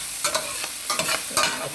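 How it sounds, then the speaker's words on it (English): Bok choy and kale stir-frying in hot oil, with a steady close sizzle broken by three bursts of scraping and tossing at roughly half-second intervals. "Putting a little more oil in there. This is a stir fry"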